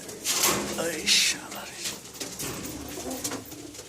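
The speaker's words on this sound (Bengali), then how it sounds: "অনেক পায়রা আছে দাদার এখানটায়, এই যে দেখো প্রচুর পায়রা আছে" Many pigeons in a loft coo in soft overlapping murmurs, close by, with scattered rustling and faint human voices in the background.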